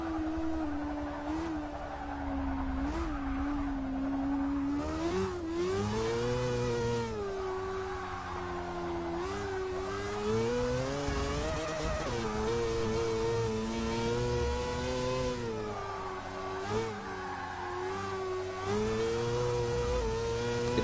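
BMW S Class car engine in the Forza 6 racing game, a buzzy, droning engine note that rises and falls repeatedly with gear changes and revving, steady and close, with no talk.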